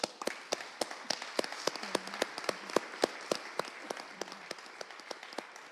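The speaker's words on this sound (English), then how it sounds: "we should all give a great round of applause to our speakers and our contributors" Sparse applause at a regional sustainability leaders' summit: a small audience's separate, sharp handclaps ring out close and distinct in an irregular patter, with a faint voice briefly underneath.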